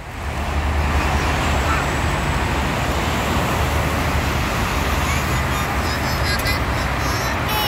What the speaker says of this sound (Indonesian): ini ada nih, ada bis